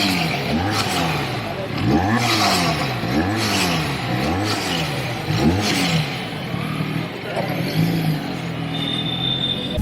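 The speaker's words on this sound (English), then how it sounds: "The exhaust note is really nice." A Benelli 302R motorcycle's exhaust gives a deep, bassy note, revving up and down in repeated swells close by with no talk over it.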